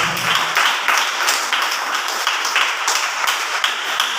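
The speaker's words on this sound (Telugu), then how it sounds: "ఇప్పుడు కొట్టు చప్పట్లు" Steady clapping from a congregation at a fasting prayer service, many hands beating in a dense, even patter throughout, with no voices over it.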